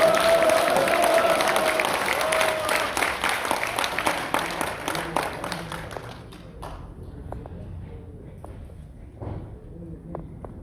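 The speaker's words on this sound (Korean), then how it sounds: "큰 박수로 맞아주세요." An audience claps loudly for a guest speaker, a lawyer invited to a talk on an impeachment trial. The applause is dense at first, thins into scattered claps and stops near the end, with no speech over it.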